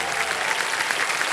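A studio audience at a quiz show breaks into loud, steady applause for a contestant, a full burst of clapping heard alone.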